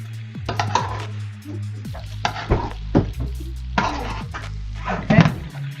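Doro wat sauce stirred in a hot pan, a spoon scraping and clinking against the pan in repeated strokes over a steady sizzle and hiss, close and fairly loud.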